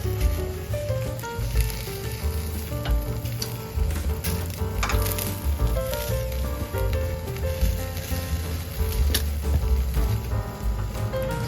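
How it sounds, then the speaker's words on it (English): Yakitori chicken skewers sizzle steadily on a grill over high heat, a continuous, moderately loud crackle with faint tonal sounds running underneath. "finish cooking on the grill over high heat"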